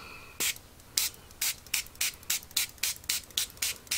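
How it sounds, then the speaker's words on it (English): A hand spray bottle spritzes paint in about a dozen quick, evenly spaced bursts, each a short sharp close hiss with quiet gaps between. "I'll spritz it with the spritzer"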